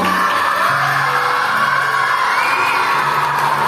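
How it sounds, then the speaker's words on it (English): Boys cheering, whooping and shouting for a first-prize winner at a school medal and awards ceremony: a loud, continuous wall of young voices filling the hall at steady volume throughout. "Please clap for him, everyone."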